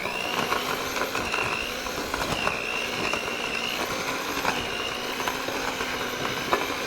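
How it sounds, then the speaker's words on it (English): An electric mixer creaming butter and granulated sugar whirs with a steady motor drone and a faint rhythmic scraping, running continuously at moderate loudness with no talking. "we added our sugar and our butter, and we're going to mix it first"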